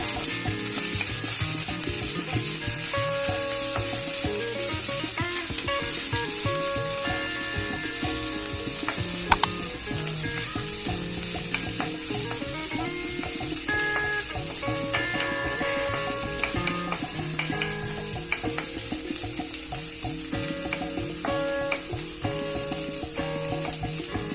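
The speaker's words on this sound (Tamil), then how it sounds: "பாருங்க வெங்காயம் நல்லா பொரிஞ்சிருச்சு." Steady, loud sizzling of onions frying in a pan, with intermittent scraping and stirring clatter throughout and no talking.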